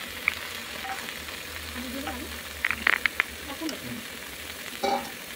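Boiled green jackfruit sizzles with chopped tomato in a pan while being sautéed for a prawn curry. The low frying hiss runs steadily, broken by a few light clinks and scrapes of stirring, with no talk.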